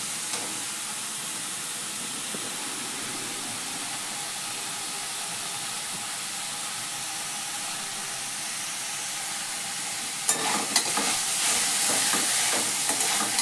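Radish leaf greens cook in a pan with a steady, close sizzling hiss, and stirring scrapes and clatters join in near the end.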